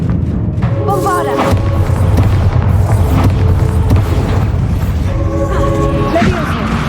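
Bombarda spell explosion in Hogwarts Legacy, a loud booming blast with crashing debris and rumbling, several impacts over a steady background of game noise.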